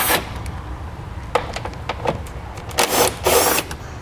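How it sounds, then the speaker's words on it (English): Quick ratcheting and clicking from a 10mm socket loosening fasteners under a 2015 BMW X1, short bursts of tool noise close by with brief pauses between. "Now I'll take these and I'll remove some of the fasteners to help loosen these and get them down out of the way. So use a 10mm socket."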